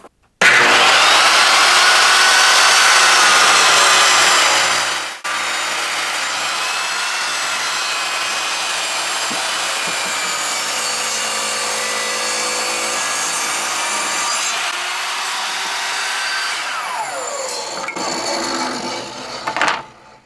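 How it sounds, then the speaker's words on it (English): A VEVOR 10-inch table saw rips a 2x4 lengthwise. The motor whine runs loud and close throughout, with a brief dip near five seconds and a falling pitch as the blade spins down near the end; nobody speaks. "let's go ahead and rip this 2x4 down and see if it bogs down at all"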